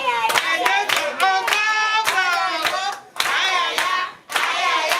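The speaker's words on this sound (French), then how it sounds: "Il faut l'applaudir." Clapping for a bride and groom at a customary wedding in Brazzaville, with sharp hand claps mixed into loud, close, sustained singing or ululating voices that carry through nearly the whole stretch, briefly dipping twice.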